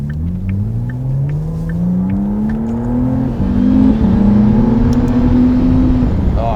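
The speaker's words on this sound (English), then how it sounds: "And that V6, I will say, sounds pretty special. This is the first V6 that McLaren has done" A 2023 McLaren Artura's hybrid V6 engine accelerating, a loud close-up rising drone that climbs steadily in pitch through a gear change, with a faint tick or two over the roar.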